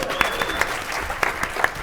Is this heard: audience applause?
yes